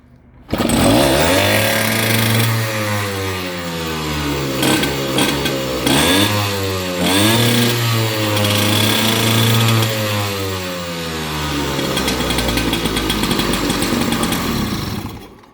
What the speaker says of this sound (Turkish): Az biraz gaz verelim.